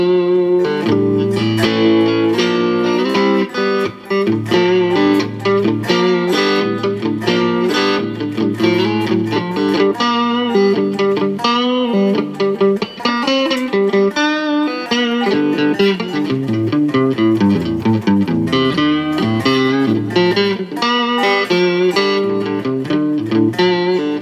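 An electric guitar plays a blues phrase through an Amplitube 5 Fender amp simulation with reverb and some distortion: continuous loud picked notes and chords, alone, with no talking.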